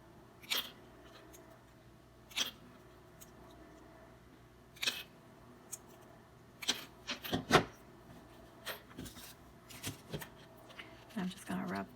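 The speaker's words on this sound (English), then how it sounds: "Just going to cut these into 2s." Scissors cut ribbons into pieces for a homecoming mum, giving a series of quiet, crisp snips spaced a second or two apart, close by, over a low room hum.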